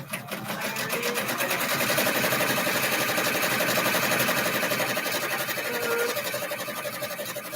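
An embroidery machine stitching fence posts onto a bag, a fast steady mechanical whirring and needle rattle running continuously at close range, swelling slightly in the middle.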